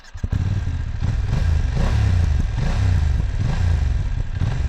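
BMW F900 GS motorcycle fitted with an Akrapovic exhaust, revving at a standstill with a rumbling mid-pitched engine note that rises and falls several times, loud and close, with no talking.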